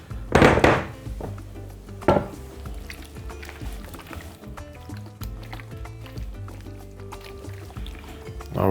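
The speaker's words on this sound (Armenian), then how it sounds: "որ մսակտորները պատվեն ձվի և սոյա սոուսի լուծույթով" Pieces of pork neck are mixed in a coating of egg and soy sauce, producing close, wet squelching and sloshing with a couple of louder splashy bursts early on.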